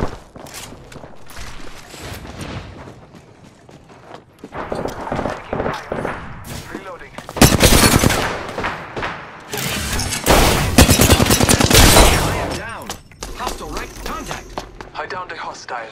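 Gunfire in an Apex Legends match on Xbox One, starting as scattered shots and footsteps, then building into dense, loud automatic bursts before easing off, with voices heard in places.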